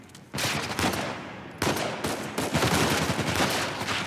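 Rapid gunfire from Uncharted 4: A Thief's End on PS5 bursts in sharply and keeps up as dense, overlapping volleys of shots with a second loud surge midway, close and constant, with no talking over it.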